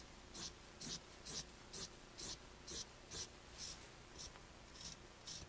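Shirt fabric cut out with scissors, a regular series of about a dozen quiet crisp snips, close up and with no voices.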